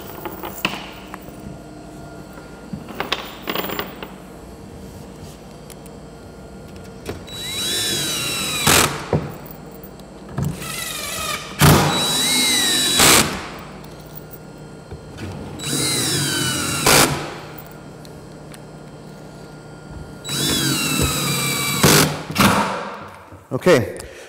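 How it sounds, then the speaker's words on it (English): A power drill drives screws into the ties of model railroad track on a main straight, sounding in several loud whirring bursts of a few seconds each, separated by pauses with quieter handling noise. "let's start putting the screws in this main straight"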